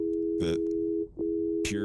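Steady telephone dial tone held for nearly two seconds, briefly cutting out once, with bursts of a voice talking over it.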